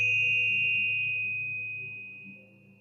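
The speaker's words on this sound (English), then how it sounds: "I also found these Tibetan bells" Tibetan bells ringing out with a clear sustained metallic tone that slowly fades over a few seconds, alone and fairly soft, with a low hum underneath.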